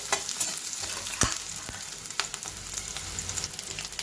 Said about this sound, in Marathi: या मिरच्या पण आपण कांद्याबरोबर परतून घेणार आहे